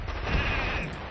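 Sheep bleating in the Army Men RTS strategy game, a single short wavering bleat heard close, with faint battle noise in the background.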